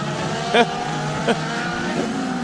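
IndyCar race cars roar past one after another on a wet São Paulo street circuit in 2011, engines whining up and down over a steady background drone, with a commentator's voice running over them.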